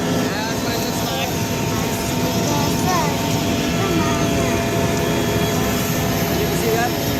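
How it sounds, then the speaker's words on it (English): Helicopter taking off in Nepal, a dense, loud, continuous engine and rotor roar filling the scene, with faint voices underneath. "I'm about to take off on the chopper."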